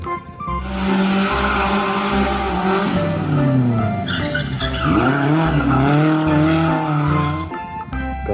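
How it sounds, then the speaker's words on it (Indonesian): Car engine and tire squeal sound effect for a toy pickup truck: a revving engine with long screeching skids that sweep up and down in pitch, loud and continuous throughout. "mobil pick up."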